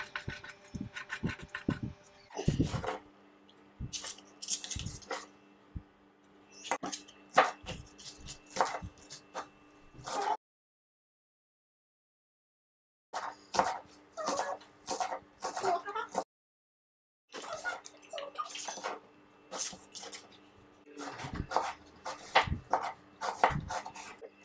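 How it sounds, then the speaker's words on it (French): A knife chops ingredients finely for sauce chien on a board, with quick irregular bursts of close, crisp taps separated by short pauses and two longer silences, and no speech. "Vous allez tout hacher en fait."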